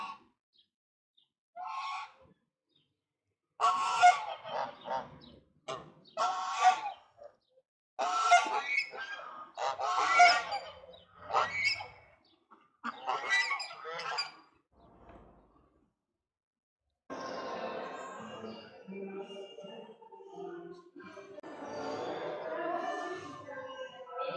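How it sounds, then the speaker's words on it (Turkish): Geese honk repeatedly in loud, harsh bursts, nearby, followed by a steadier stretch of mixed honking and quacking. "Şöyle kazlar, ördekler hepsi burada."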